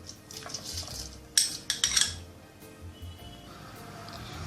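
Soaked rice stirred into reducing milk in a pot, with a few sharp metallic clanks and scrapes of a spoon against the pot over a faint low simmer, close and moderately quiet.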